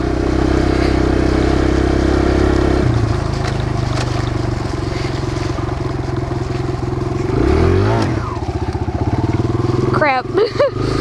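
A Kawasaki KLX 140 dirt bike engine runs loudly and continuously with shifting revs, ending in choppy, uneven bursts near the close; a voice speaks briefly over it.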